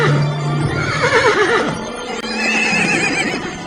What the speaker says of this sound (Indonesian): Kuda Aipat berlari paling kencang dan meninggalkan lawan-lawannya jauh di belakang.